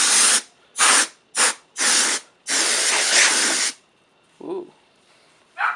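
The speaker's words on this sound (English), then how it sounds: "I'm going to go ahead and spray some." Several short hissing bursts from an aerosol can, then one long continuous spray, followed by quiet and a faint click.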